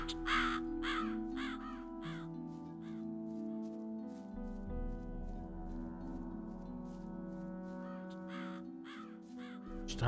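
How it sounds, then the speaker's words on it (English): Crows caw repeatedly in the fantasy role-playing game Gothic 2, harsh calls in clustered bursts over a quiet droning ambience. "Stop with these loud ass crows."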